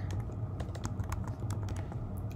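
Rapid, uneven clicking of keys on a computer keyboard while entering a chart title, close and fairly quiet, with soft thuds under the crisp taps and no talking.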